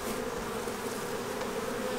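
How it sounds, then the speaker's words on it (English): Honey bees buzz steadily around a homemade hive, a dense, continuous drone of many insects close by, with no voices. "let all these bees come back to their home real quick"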